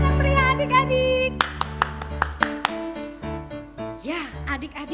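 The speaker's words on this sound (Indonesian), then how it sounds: "Tepuk tangan yang meriah adik-adik." Children's Sunday school class clapping their hands, a run of sharp separate claps in quick succession mixed with a singing adult voice and children's chatter.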